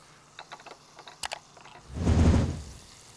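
Raw turkey burger patties laid into a hot grill pan, a few soft clicks and taps first, then a loud, broad sizzle bursting up for about a second before fading away.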